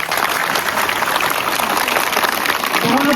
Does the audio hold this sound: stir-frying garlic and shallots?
no